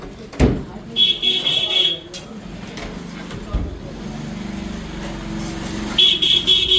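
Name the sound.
vehicle horn honking on street in Kashi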